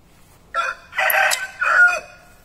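A rooster at a farm henhouse on a rural property near Rio de Janeiro crows loudly and close, a full three-part cock-a-doodle-doo rising and falling over about a second and a half, against quiet surroundings.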